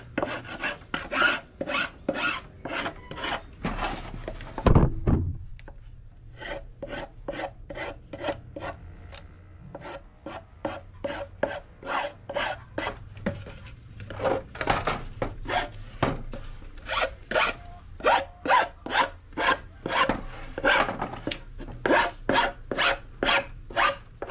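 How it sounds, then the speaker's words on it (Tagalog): A hand file rasps away excess plywood in dozens of rhythmic, close back-and-forth strokes, with a short pause partway through and no voices. "gamit tayo ng kikil. Tanggalin lang natin mga excess na napagputulan ng"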